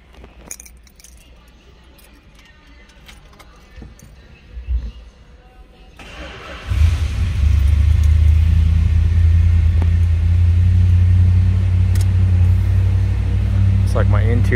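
A 1965 Chrysler 300 L convertible starts after some quiet handling clicks and rustles, then its engine settles into a loud, steady low idle rumble that runs on to the end.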